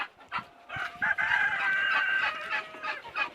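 Local chickens at a village farm cluck and cackle in a busy overlapping chorus, with a rooster's long crow rising through the middle and another near the end.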